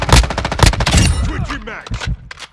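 Gunfire in Call of Duty: Modern Warfare II comes as loud, rapid automatic bursts of closely spaced shots. It fades into scattered single cracks, and a voice talks over the firing.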